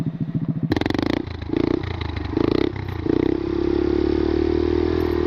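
A motorbike engine revs on the throttle in repeated surges, then settles into a loud, steady drone nearby at an outdoor stunt meet.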